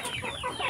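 Native farm chickens cluck nearby, giving a short burst of soft, overlapping clucks with no voices over them.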